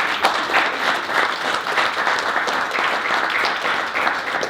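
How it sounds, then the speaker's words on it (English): An audience claps steadily for the special issue authors on servant leadership: dense, sustained applause filling the whole stretch at full volume, with no single voice standing out. "can I just get another round of applause for the special issue authors?"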